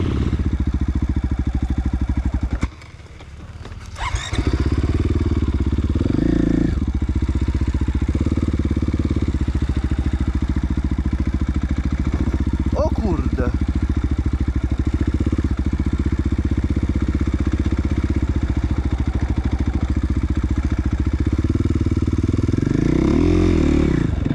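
Enduro motorcycle ridden in winter at minus ten degrees, its engine running loud and close throughout with steady droning revs, a brief dip near the start, and a few clattering bumps.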